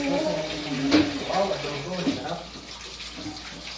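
Tap water runs into a sink as hands are washed before eating, a steady wash of flow underneath loud, overlapping conversation and laughter close by.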